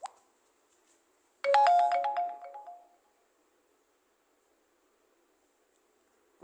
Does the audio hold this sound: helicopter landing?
no